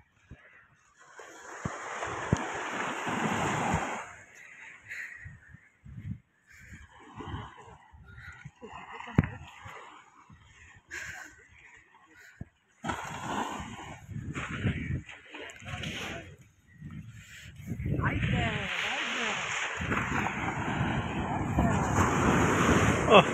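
Arabian Sea surf breaking on the shore, waves surging and washing in loud bursts with wind buffeting the microphone, a person talking between the swells.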